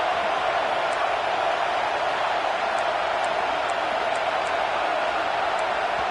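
Stadium crowd roaring at a college football game, a steady dense loud wash of noise that never lets up, with faint whistle-like tones poking through.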